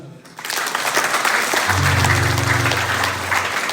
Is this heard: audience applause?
yes